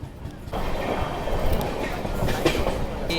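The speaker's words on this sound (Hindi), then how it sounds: "अब हम मेन लाइन ज्वाइन करेंगे और एक्सीलरेट करेंगे।" An express train on the Chennai Central to New Jalpaiguri superfast route joins the main line near Malda Town, its wheels rumbling and clacking loudly over rail joints as it picks up speed, heard from onboard.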